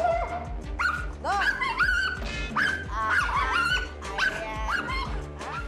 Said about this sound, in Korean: 탄이를 향해 온 힘을 다해 비명을 지르듯 짖어대는 까미